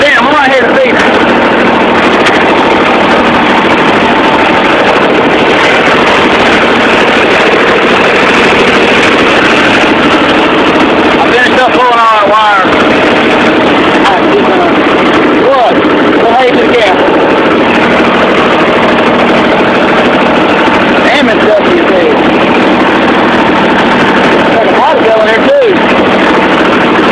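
A Jeep engine runs with a loud, continuous mid-range drone that holds steady the whole time, heard close up with brief voices talking over it.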